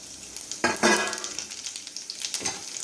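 Cumin seeds hit hot oil in a pan for ven pongal tempering, giving a bright crackling sizzle that swells near the start and keeps spitting steadily alongside light stirring.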